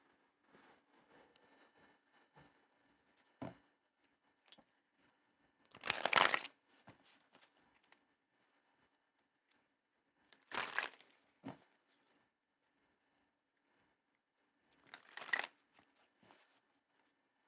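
An oracle card deck is shuffled in three distinct riffling bursts spaced several seconds apart, each a brief crisp flutter of cards, with soft handling rustles and quiet gaps in between.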